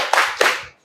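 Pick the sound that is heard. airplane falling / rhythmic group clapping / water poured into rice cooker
rhythmic group clapping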